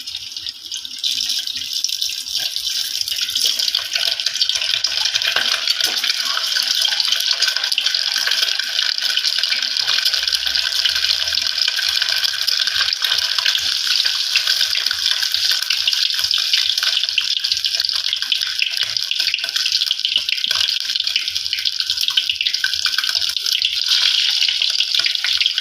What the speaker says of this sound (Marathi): हे तेल गरम झालं की असे अंडे टाकून द्यायचे.